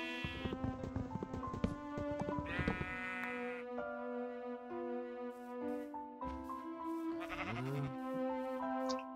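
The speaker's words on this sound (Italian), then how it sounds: "così stiamo riuscendo ad avere pure due fottute pecore" Sheep bleating in the video game Minecraft, several wavering bleats rising over a bed of game music tones, with a clip-clop-like patter and a clear bleat near the end.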